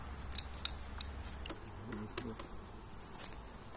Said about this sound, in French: on chasse les abeilles avec une brosse.